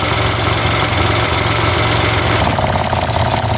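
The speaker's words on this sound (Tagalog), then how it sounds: "Mga almost 20 minutes na po umaandar tong makina." Mitsubishi Mirage engine idling steadily after a service with an oil change, a loud, close, continuous mechanical hum with a slight change in tone near the end.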